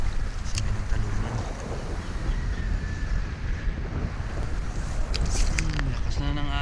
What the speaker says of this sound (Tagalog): Lakas na ng alon mga master.